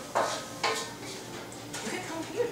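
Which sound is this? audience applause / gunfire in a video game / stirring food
stirring food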